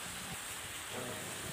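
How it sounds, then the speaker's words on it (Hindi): Steady rain falling over rural countryside, a soft, even hiss of drops heard faintly and continuously, with no voices. "सोमवार की शाम से रुक रुक कर ग्रामीण क्षेत्रों में अच्छी बारिश हो रही है"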